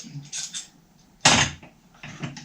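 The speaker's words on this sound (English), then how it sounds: "clamp it down" A metal clamp being tightened onto a circular saw's straight-edge guide, heard as brief metallic creaks and scraping clicks with one louder clank in the middle, close by in a quiet workshop.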